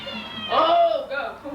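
A house cat lets out one clear, rising-then-falling meow in the middle, moderately close, with quiet room background around it.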